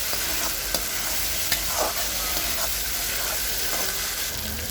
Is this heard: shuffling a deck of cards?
no